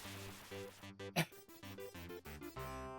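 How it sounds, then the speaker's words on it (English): Chiptune-style level-up jingle from the video game Rings of Power, a quick sequence of bright beeping tones with a short burst of noise in the middle, fairly faint and without talk. "That's the sound of level ups."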